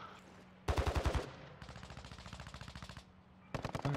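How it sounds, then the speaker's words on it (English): Bursts of automatic gunfire in the Call of Duty DMZ video game, a loud close rapid volley followed by a longer steadier stream of shots, then another short burst at the end. "Why are they shooting?"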